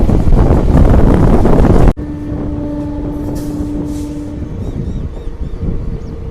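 The Kerala Superfast Express runs past loud and close with heavy rumbling and wind buffeting, then shifts into a steadier rolling roar with a sustained tonal hum, passing paddy fields.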